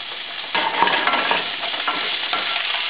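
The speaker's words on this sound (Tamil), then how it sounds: "இப்போ அந்த சாப் பண்ண பச்சை மிளகாவை அதில் ஆட் பண்ணுவோம்" Chopped green chillies tossed into garlic frying in hot oil, giving a loud steady sizzle with stirring scrapes over about three seconds, with no voices.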